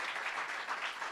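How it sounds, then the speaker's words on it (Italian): A brief, steady wash of applause from a sports gala audience greeting the evening's host, even and continuous without voices. "Un applauso alla nostra conduttrice della serata."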